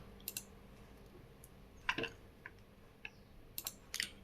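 A website address is typed on a computer keyboard: sparse, faint clicks and small clusters of keystrokes sound close by in an otherwise quiet room.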